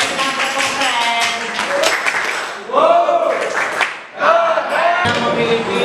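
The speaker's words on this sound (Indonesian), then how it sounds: "Berikan tepuk keren." Classroom group doing a 'tepuk keren' cheer clap, bursts of many hands clapping in a patterned rhythm with chanting voices mixed in, close and lively, pausing briefly between phrases.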